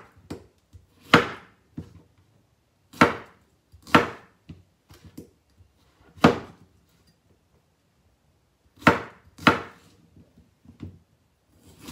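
A knife chops cucumber on a board in sparse, uneven single strokes spread apart, crisp and close, with quiet pauses between cuts.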